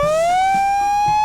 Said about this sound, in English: a classic Japanese police siren